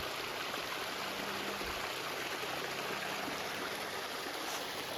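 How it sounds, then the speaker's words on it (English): A small creek waterfall pours over big boulders in the woods, a steady broad rushing wash of water heard at moderate distance without voices. "Big boulders here, and then there's the waterfall down there."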